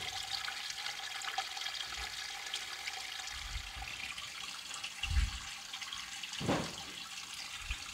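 Water runs continuously into an aquarium over a glass dish set on the substrate, a steady close rushing pour with a few low thumps and gurgles, and no talking.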